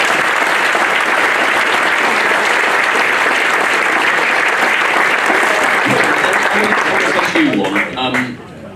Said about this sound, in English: That's worth a round of applause as well, isn't it?